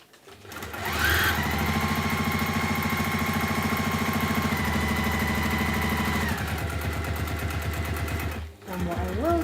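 A sewing machine stitches a wax tote bag, running in a steady, loud mechanical whir for several seconds, slowing and stopping, then restarting briefly near the end.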